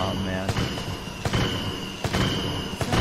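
Fireworks items burst in a Dota 2 match, sharp cracks landing about every half second to second over a dense bed of game noise and music.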